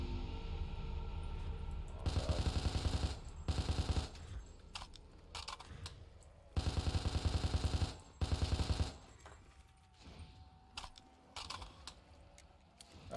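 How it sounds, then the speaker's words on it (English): Sustained bursts of MG08 machine gun fire from Black Ops 3 Zombies, rapid rattling volleys separated by short pauses and lighter clicks, fairly quiet overall with no talking. "I need to be using this MG08, because I just need a really high damage weapon"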